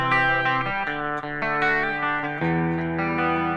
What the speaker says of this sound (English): Let me add in a chorus sound real fast, right?